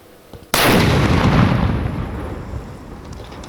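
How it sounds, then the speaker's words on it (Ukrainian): An explosive device found in Sumy region, Ukraine, is detonated by a robot: a sudden loud blast booms out, followed by a long rumbling roar that slowly fades. "Увага! Вибух!"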